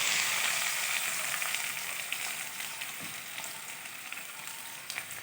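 Chilies and onion hit hot oil in a pan and sizzle loudly at first, the crackle easing slowly with scattered pops toward the end; nobody speaks.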